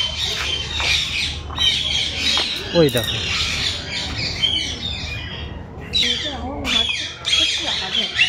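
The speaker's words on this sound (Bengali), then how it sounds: "এইটা এইটা এক ধরনের পাখি" At the Indore zoo a bird squawks loudly and repeatedly, its harsh calls mixed with chirps and surrounding crowd noise while people talk nearby.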